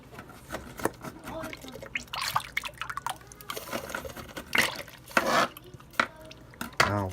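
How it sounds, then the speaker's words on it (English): Buttermilk is poured for seasoned fried chicken, with wet drips and splashes coming in short bursts among nearby voices and kitchen clatter. "Pour in our buttermilk."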